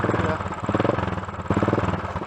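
A Royal Enfield 535 GT single-cylinder motorcycle pulling away from a standing start, its thumping exhaust pulses loud and close, rising in pace as it accelerates, with a brief shift in tone midway.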